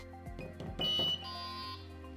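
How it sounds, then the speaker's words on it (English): A Delkim Rx-D fishing bite alarm receiver emits a short series of high beeps and a sustained confirmation tone, close and clear with no talking. "it will give you the confirmation tone and the LEDs will flash"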